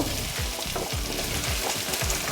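Radish, beans and other winter vegetables hiss and sizzle in a pan of frying vegetable curry, with a steady close crackle and light stirring scrapes throughout.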